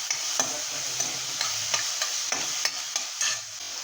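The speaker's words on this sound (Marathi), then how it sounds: "व्यवस्थित आपल्याला हे सगळं परतून घ्यायचं आहे" Tomatoes being stir-fried for palak paneer bhurji in a pan, a steady close sizzle broken by regular scraping strokes of a spatula about every third of a second, with no talking.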